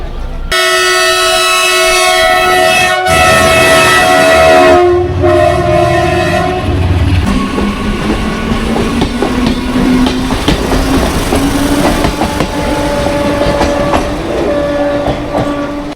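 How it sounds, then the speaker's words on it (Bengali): A through train passes a station platform with a loud sustained horn blast, then the heavy rumble and rhythmic clatter of wagons rolling by close up, with faint voices underneath. "2 নম্বর প্ল্যাটফর্ম নিয়ে থ্রু ট্রেন যাবে।"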